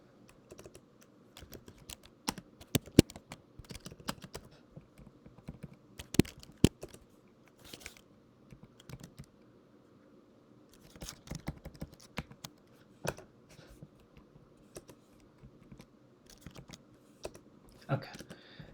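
Someone types Python code on a computer keyboard in irregular bursts of clicky keystrokes with short pauses, close and moderately quiet, against a silent background.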